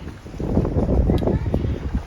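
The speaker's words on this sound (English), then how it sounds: "It's a bit windy today, so hopefully that is not affecting the sound" Gusty wind buffets the microphone with a low, rumbling roar that rises and falls continuously.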